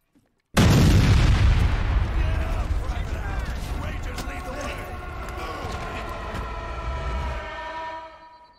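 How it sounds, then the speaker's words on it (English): Loud cannon blast in Fortnite, a sudden boom that rolls into a long rumbling decay lasting several seconds. "They added cannons back?"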